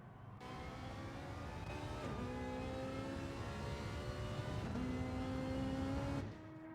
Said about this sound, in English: KG just coming out of the pits and warming the car up